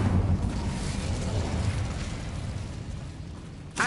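An Incendio fire spell blasts in Hogwarts Legacy with a loud, sustained roaring whoosh of flame that slowly fades, ending in a short crackling burst.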